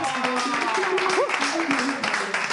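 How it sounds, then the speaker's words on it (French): An audience applauds an orchestra at a live show, with steady clapping throughout and voices and cheers mixed in above it. "On peut applaudir pour de vrai."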